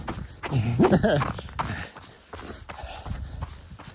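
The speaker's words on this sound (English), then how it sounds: "What horse is that?" Horse hooves clip-clop on a soft, muddy, partly frozen desert trail, a steady walking rhythm of muffled thuds nearby, mixed with rustling movement.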